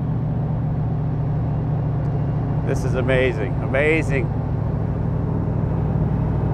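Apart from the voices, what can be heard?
1965 Shelby Cobra Daytona Spyder engine and exhaust while driving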